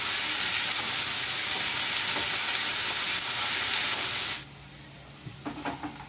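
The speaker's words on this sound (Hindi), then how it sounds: "ये देखो अरबी हमारी ये फ्राई हो चुकी है।" Taro (arbi) pieces fry in a pan with a loud, dense hissing sizzle that suddenly drops to a quieter bubbling, followed by a few soft stirring knocks near the end, no one speaking.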